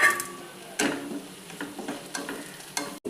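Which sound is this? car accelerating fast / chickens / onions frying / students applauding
onions frying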